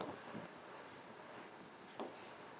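A pen scratches steadily across paper close up, soft continuous scribbling with a sharper tap near the end, fairly quiet with no voice.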